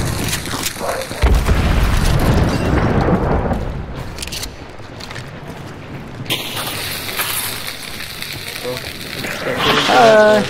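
Dynamite blast in a hunting video game, a deep loud boom rolling out for a couple of seconds before fading into rumbling game ambience, with players talking over it.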